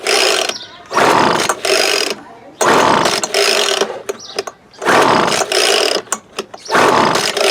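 A Feather Lite FL1500 leaf blower, a barn find that sat unused for years, is pulled over repeatedly, each long mechanical whirring rasp loud and close, in about five separate bursts.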